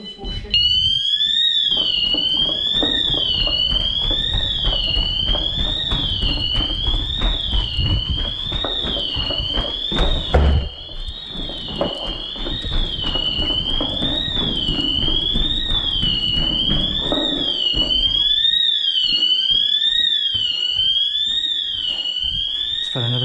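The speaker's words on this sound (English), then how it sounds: "Before this alarm goes off." An alarm sounds inside an abandoned asylum, a loud wavering electronic whoop repeating in a steady cycle throughout, with footsteps, clatter and people talking beneath it.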